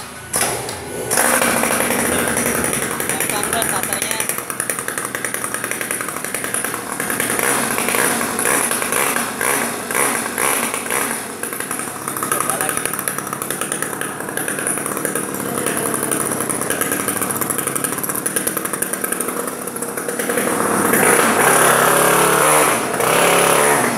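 A small petrol engine, recently set too fast and running rich, is started and then runs at a high, steady rev with a buzzy, raspy drone. It stays loud and close throughout, with no talk over it.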